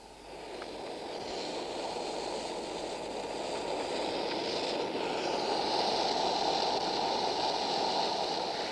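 Model train carriage on sprung bogies running along track, a continuous steady rumbling whir that grows slightly louder and nearer over several seconds, with no talk.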